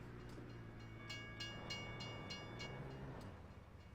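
A train in the Farming Simulator 2017 game rolls past with a steady rumble and a low horn, and a vehicle hits it. Short bright clatters repeat through the middle of the clip, and no one speaks.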